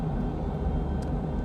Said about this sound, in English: plain airplane white noise